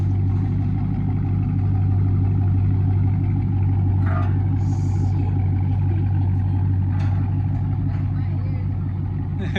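A straight-piped Dodge Charger Scat Pack widebody idles with a loud, deep, continuous exhaust rumble close by, the engine holding steady throughout.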